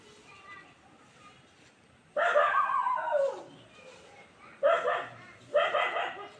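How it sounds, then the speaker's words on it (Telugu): Small puppies yelp and bark in three sharp outbursts, one longer and two brief, close by with quiet pauses between them. "రాక్షసి నిమ్మిగాడు అరుస్తుంది"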